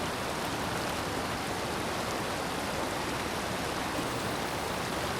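Small stream of water flowing steadily over rocks in a wooded spot near Varkala, a continuous close rushing and babbling with no pauses or voices.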